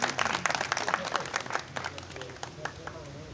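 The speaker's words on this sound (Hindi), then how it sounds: "इनका तालियों से इस्तकबाल कीजिए।" An audience at an Eid poetry gathering claps in welcome, with distinct hand claps that start strong and then thin out while a voice speaks faintly underneath.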